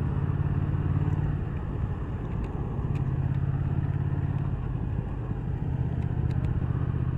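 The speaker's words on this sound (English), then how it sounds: "The 2019 Thruxton R test ride." A 2019 Triumph Thruxton R 1200 motorcycle on a test ride, its engine holding a steady, rumbling drone with slight shifts in pitch as speed changes, under constant road and wind noise and with no talk.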